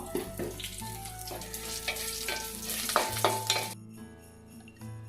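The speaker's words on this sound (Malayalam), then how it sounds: "പിന്നെ ഒരൽപ്പം ഉഴുന്നുപരിപ്പ് പിന്നെ ഒരു രണ്ടോ മൂന്നോ മുളക് ഇതും കൂടി ഇട്ടിട്ട് നമുക്കൊന്ന് ഇത് മൂപ്പിച്ചെടുക്കാം" Urad dal, mustard seeds and two or three dried chillies fry in hot oil, giving a bright, busy sizzle with crackles and stirring that drops off sharply near the end.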